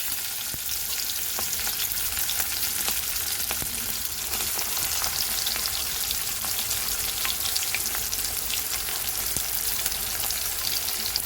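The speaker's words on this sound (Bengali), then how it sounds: "পেঁয়াজটাকে লাল লাল করে ভেজে নেব।" Chopped large onion frying in hot oil for a potato and pointed gourd curry, a continuous close sizzle with scattered pops and occasional stirring scrapes throughout.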